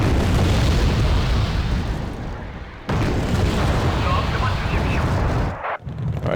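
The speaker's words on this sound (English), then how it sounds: "Alright, artillery firing." Artillery fires in the Wargame: Red Dragon battlefield as a loud, dense, continuous rumble of booms and blasts that dips briefly near the end.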